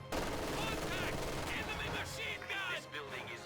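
Sniper rifle shots and MG42 machine gun bursts from the Company of Heroes 2 strategy game ring out in steady repeated volleys over battlefield noise, with a voice talking in places underneath.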